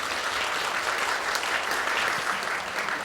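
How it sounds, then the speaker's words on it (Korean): An audience at a symposium applauds the four presenters, steady dense clapping filling the hall for several seconds without letup. "네 분께 다시 한번 박수 부탁드리겠습니다."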